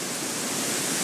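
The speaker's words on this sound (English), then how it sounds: "Very windy. You can probably hear the trees going off." A steady, broad rush of wind roars through trees on a very windy day without letting up, loud and close, with no voices.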